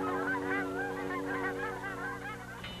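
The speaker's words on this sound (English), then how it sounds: "the birds head south for the winter." Migrating birds flying south for winter call as a flock of honking geese, with repeated, overlapping honks that are loud and continuous, with no talking.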